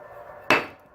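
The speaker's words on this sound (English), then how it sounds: "tapped it in with a hammer" A hammer taps a baffle into the pipe of a Triumph Thunderbird motorcycle exhaust: one sharp, close metallic strike with a short ringing decay over quiet background.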